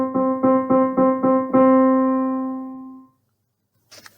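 Six evenly repeated notes on one pitch played in a quaver, semiquaver and crotchet rhythm, the last note held and slowly fading, followed by a brief soft noise after a pause.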